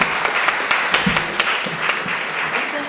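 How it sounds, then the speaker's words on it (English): An audience applauds panelists in the Brockway Room at Conway Hall: sustained, dense clapping from many hands, steady and fairly loud throughout, with a few sharper individual claps standing out and no talking. "If you can have a round of applause"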